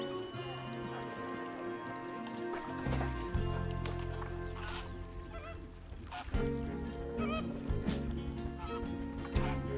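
A flock of flamingos honks and gabbles in a Planet Zoo enclosure beside a pygmy hippo, with repeated nasal goose-like calls overlapping continuously and fairly close.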